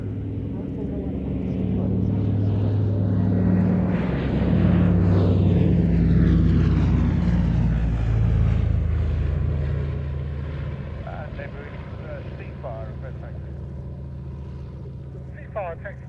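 A Consolidated Catalina flying boat taxis at an airshow, its piston engines droning loud and rough as they swell to a peak near the middle, then fade to a steady rumble; a commentator's voice carries faintly underneath.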